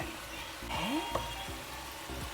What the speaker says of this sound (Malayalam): നമ്മുടെ ചിക്കനൊക്കെ ചെറുതായിട്ട് ഷാലോ ഫ്രൈ ആയിട്ടുണ്ട് കേട്ടോ